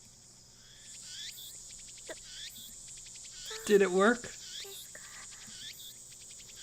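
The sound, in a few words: cicadas chirping in Steins;Gate anime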